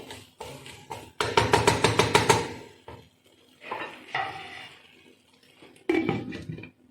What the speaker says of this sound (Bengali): আমি এটাকে আমার ঢাকা দিয়ে দেবো